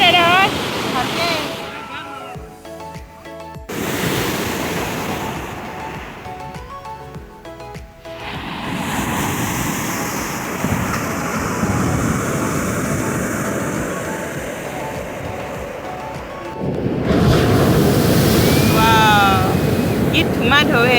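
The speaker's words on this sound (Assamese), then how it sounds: "কি ধুমা ঢৌ সেইটো" Ocean waves surge and crash on a beach, a loud, broad roar with heavy wind buffeting the microphone, while people talk over the surf in between.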